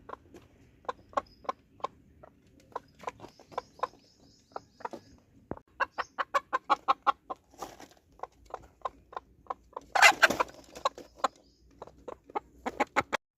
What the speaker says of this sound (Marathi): आणि ही ती आपली कोंबडी आहे